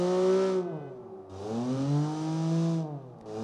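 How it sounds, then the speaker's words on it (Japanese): Kei truck engine in an engine simulator game revving slowly, a loud, steady harmonic drone whose pitch rises and falls through two smooth sweeps with a short dip between them. "ゆっくりこう吹かすとさ、"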